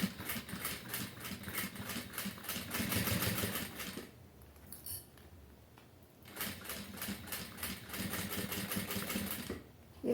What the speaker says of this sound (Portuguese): Eu vou começar a costura aqui próximo da emenda do viés